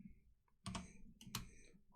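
Keys tapped on a computer keyboard, a short irregular burst of quiet clicks in a few clusters, close and isolated with no talking.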